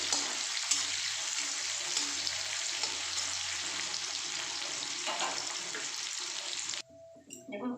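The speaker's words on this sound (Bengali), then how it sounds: "পেঁয়াজ ভাজা ভাজা হয়ে গেছে" Onions frying in a pan for a chickpea curry, a loud, steady close sizzle that drops away abruptly near the end, leaving faint clatter, no voices.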